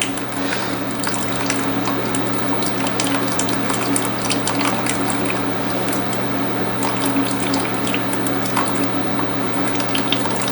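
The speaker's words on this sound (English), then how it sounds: "There's a lot of good liquid coming out." Liquid wort steadily trickling and dripping from a brew-in-a-bag grain bag into a kettle, a continuous wet splashing over a low background hum.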